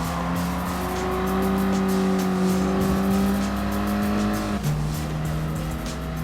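Race car engine roaring steadily through the final lap of a Gran Turismo Sport race, with Renault Sport cars, an Alfa Romeo 4C, Toyota and Alpine on track; a loud sustained drone with shifting pitch and a brief gearshift dip near the end.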